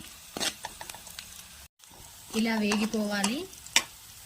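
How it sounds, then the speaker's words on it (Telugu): Onion pieces and green chillies frying in oil in a kadai make a light sizzle with scattered stirring taps, interrupted by a short squeaky scrape partway through. "ఉల్లిపాయ పచ్చిమిర్చి ఇలా ట్రాన్స్పరెంట్గా వేగిపోవాలి."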